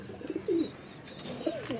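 A female pigeon gives a few low, close coos in two short phrases over faint background hiss, with no talking.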